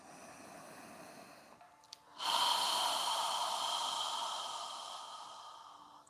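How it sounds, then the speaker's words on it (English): A long, open-mouthed yoga exhale, a breathy rush of air that starts abruptly after a quiet pause and softly fades, close and alone. "exhaling through our mouth, with our mouth open wide"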